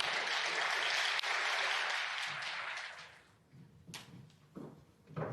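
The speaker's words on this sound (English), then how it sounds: "the applause you can hear in the background is for Sanderson Lamb" Applause from the crowd at a Scottish Open snooker match, a sustained wash of clapping heard in the background that fades out after a few seconds, leaving quiet room sounds and a few faint knocks.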